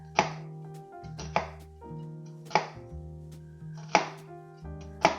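A knife slices through an onion half on a cutting board, five crisp, evenly spaced chops, each ringing briefly against the board, close and clear with no talk.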